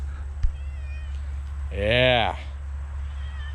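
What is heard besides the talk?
cat meowing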